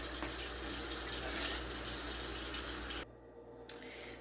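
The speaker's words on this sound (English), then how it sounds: "put some water in this. We're going to boil it." Tap water runs steadily into a cooking pot to be boiled, a constant loud hiss that stops abruptly, leaving a quiet room and one small clink.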